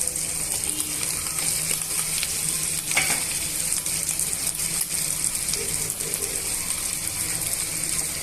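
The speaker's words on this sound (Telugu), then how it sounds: "సన్నగా కట్ చేసి పెట్టుకున్న అరటికాయ ముక్కల్ని వేసుకొని వేయించుకోవాలి" Thinly sliced raw banana rounds fry in oil, a dense continuous sizzle with crackling and rattling stirring scrapes throughout, close and steady.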